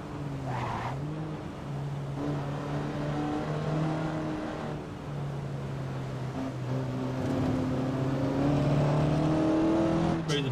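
A TVR Griffith 200 in Assetto Corsa races with its engine loud and steady, revving up and down through gear changes as it accelerates, with several pitch climbs and a few brief drops.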